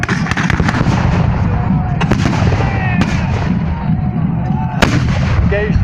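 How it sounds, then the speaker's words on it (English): At an English Civil War battle reenactment in Gloucester, cannon and small arms fire nearby in a rapid, irregular series of sharp booming bangs over a constant background rumble. "cannon are still firing on the flank and behind the Roundhead line."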